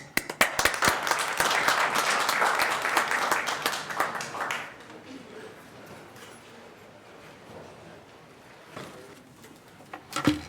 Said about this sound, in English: Give him a good applause.